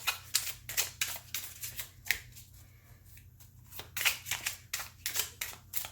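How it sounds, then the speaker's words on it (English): A tarot deck is riffle-shuffled up close in quick, crisp bursts, with a short quieter pause in the middle before the shuffling resumes. "So I'm actually shuffling half the deck in backwards."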